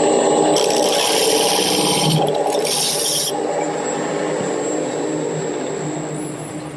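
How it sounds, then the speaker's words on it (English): Wood lathe turning a chair leg while a skew chisel cuts, a loud steady motor hum with a harsh hissing scrape that starts, pauses briefly and stops, leaving the spinning lathe droning and fading. "I'm going to start with a skew chisel and make a cut there, and then using a gouge, I'll round this section."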